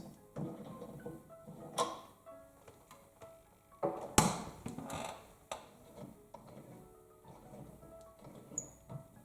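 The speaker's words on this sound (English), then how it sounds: "we need to unscrew those golden knobs here very carefully. They have metal threads." Metal-threaded golden knobs being unscrewed from an 1820 Tischner grand piano make faint creaks, small ticks and light metallic clicks close by, with one sharper knock near the middle.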